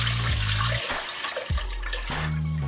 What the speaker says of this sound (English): To start, we'll put water in this.